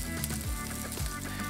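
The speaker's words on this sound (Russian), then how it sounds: "переворачиваем стейк на другую сторону. И жарим также 3 минуты." A ribeye steak fries in a hot pan for an Asian-style recipe, giving a steady, close crackling sizzle throughout with no talking.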